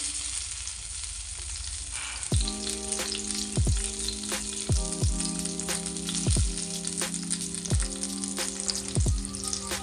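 Stuffed green chillies for bharli mirchi fry in oil in a pan, a steady close sizzle broken by a regular series of sharp metallic clinks, roughly one every second, with a low hum underneath.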